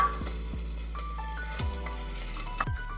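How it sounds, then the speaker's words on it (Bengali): Ginger-garlic paste sizzles steadily in a hot pan, with a few sharp spatula clinks and scrapes against the metal as it is stirred, close and clear with no talking. "এবার আদা রসুন দিয়ে 1-2 মিনিট মতন ভেজে নিতে হবে।"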